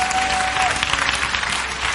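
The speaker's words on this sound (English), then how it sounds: "If you believe that, clap real loud." A church congregation at a sermon claps loudly, a dense, sustained wash of many hands applauding together with voices mixed into the crowd noise.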